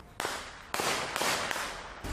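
Several sharp gunshot-like cracks ring out in an irregular sequence, each loud and abrupt with a brief decay, no talking.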